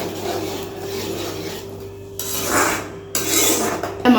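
Masala being stirred in a pan for a roadside-style Tamil sundal masala, with a ladle scraping and rasping against the metal in uneven strokes, close and moderately loud, with a steady simmering hum underneath.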